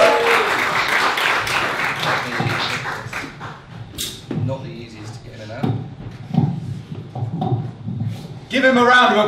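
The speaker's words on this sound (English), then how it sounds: "Let's get them going, a bit of round of applause." An audience at a comedy night in a Southampton village venue claps for an act. A burst of applause opens, someone talks over quieter stretches, and a fresh round of clapping swells at the end.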